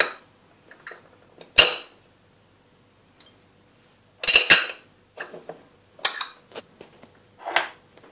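Chana chaat ingredients being mixed in a bowl give off scattered clinks and scrapes of a spoon against the dish, coming in irregular bursts separated by near silence.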